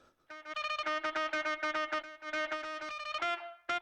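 A virtual saxophone in Logic plays a quick, staccato melodic riff of short repeated notes with a bright, reedy and slightly buzzy tone. It sounds clear and close, with no talking over it.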